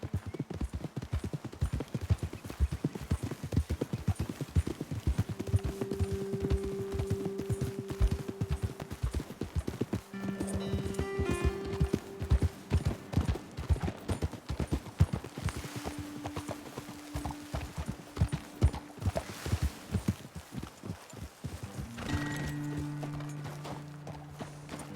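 Steady clip-clop of several horses' hooves walking in a rhythmic pattern in the video game Red Dead Redemption 2, close by, with occasional faint tonal music underneath.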